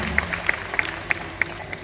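Scattered, sparse clapping from a small crowd in Australia: a handful of sharp claps spread over a couple of seconds, fairly light.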